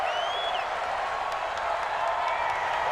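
Stadium crowd noise from the NFL 20 football video game, a steady, dense roar of cheering fans holding at a constant level throughout with no break.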